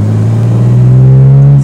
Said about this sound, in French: Oh, j'adore les 6 cylindres en ligne.